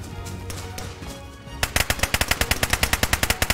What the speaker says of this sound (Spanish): me dispara uno por aquí, por la derecha